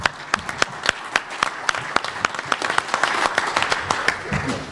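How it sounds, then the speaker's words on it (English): Audience applause at a baseball press conference announcing the Frontier League's merger with the Can-Am League: a moderate room of scattered, crisp hand claps that thickens toward the end, with some voices underneath. "please join me in a round of applause"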